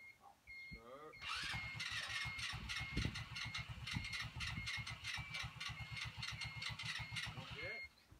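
A Hunter 200cc ATV engine cranks, catches and settles into a steady, fast idle, a loud rhythmic putter close by that cuts off near the end, with a faint whine at start and stop.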